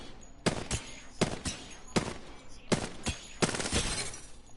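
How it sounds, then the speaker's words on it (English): Short automatic bursts from the R99 submachine gun in Apex Legends, five or six rapid volleys of sharp cracks separated by brief pauses, fairly close and clear. "now we're gonna try out the R99"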